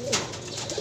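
Pigeons coo at a loft, with a checkered unringed visitor among them, producing close, soft throaty coos and a brief higher call over a steady low rumble.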